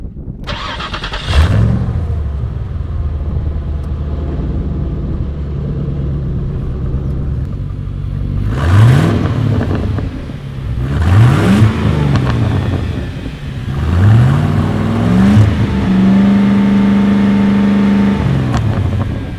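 A Toyota Cressida's engine cranks and catches, then revs up several times in rising swells before settling into a steady idle, loud and close with no talking over it.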